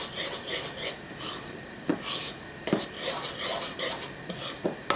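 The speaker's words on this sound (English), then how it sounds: "And then you're just going to mix that up" A spoon scraping and rasping steadily around a bowl as cookie dough ingredients are mixed, with a few sharper knocks against the side over the continuous stirring.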